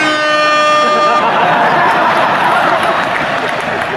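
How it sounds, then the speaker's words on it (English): A loud, sustained air horn blast rings out at a comedy show for about a second, then dissolves into a roaring crowd of cheers and applause. "That air horn pushed me over the top"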